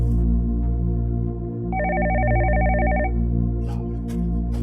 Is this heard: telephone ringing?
yes